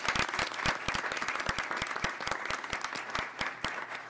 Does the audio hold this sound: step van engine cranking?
no